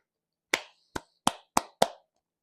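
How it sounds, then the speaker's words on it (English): Five sharp, separate hand claps, close and crisp, spaced unevenly in a quiet home bakery, applauding a freshly baked Christmas bake. "that needs an applause, guys"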